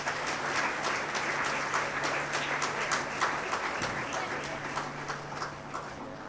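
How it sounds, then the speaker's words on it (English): At a school concluding function, the audience claps in a warm, steady round of applause with distinct sharp claps among many hands, a low hum running beneath and fading slightly toward the end. "Let's express our heartfelt appreciation with a warm round of applause."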